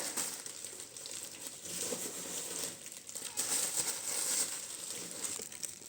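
Plastic packaging crinkles and rustles close up in irregular bursts, with soft handling noises between them.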